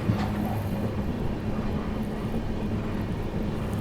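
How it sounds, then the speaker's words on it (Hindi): The Prayagraj Express rushing through Shikohabad Junction, a continuous loud low rumble and rolling roar of the moving train, steady throughout. "अपनी प्रयागराज एक्सप्रेस जो है स्किप करने जा रही है शिकोहाबाद जंक्शन को"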